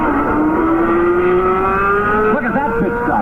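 Joe Leonard's race car during a refueling pit stop at the 1971 Pocono 500, a loud engine note rising steadily in pitch as it revs and pulls away, with a broadcast commentator talking over it.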